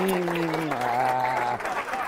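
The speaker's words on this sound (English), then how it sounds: "Give Sarah a big round of applause, ladies and gentlemen." A live audience gives a round of applause, a sustained spread of clapping under a voiced tone and crowd murmur, fairly loud and close.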